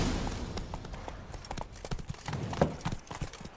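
A horse gallops in The Witcher 3: Blood and Wine, its hooves clip-clopping in a quick, uneven rhythm, up close and loud, with a few sharper thuds among the steps.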